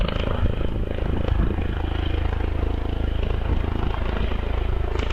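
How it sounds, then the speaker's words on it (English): A loud helicopter roars close overhead at the Wiscombe Park hillclimb, its rotor chop pulsing steadily and drowning out everything else. "we were being overpowered a little bit by the sounds of the helicopter"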